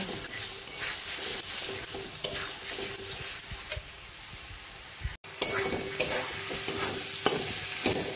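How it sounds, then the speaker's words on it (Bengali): Spices and ginger-garlic paste fry in a pan for a rui fish curry, with constant spatula scraping and a bright sizzle, broken by one brief pause. "আদা রসুন বাটাটা ভালো করে মশলার সঙ্গে মিশিয়ে নেব"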